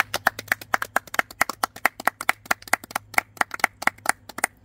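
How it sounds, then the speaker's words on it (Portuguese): Steady, rhythmic clapping from a gathered audience at a house handover celebration, sharp claps arriving several per second, fairly close and clear, with no talking over them. "uma salva de palmas bem forte"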